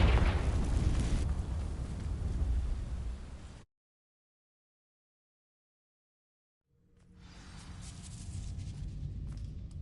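A Confringo blasting spell bursts in Hogwarts Legacy, a loud rumbling explosion that fades into total silence for a few seconds before a quieter ambient rumble swells back.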